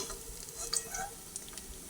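Kebab pieces made from gathi kochu taro fry in hot oil with a continuous bright sizzle, while a few soft scrapes and ticks sound as the pieces are lifted out one by one.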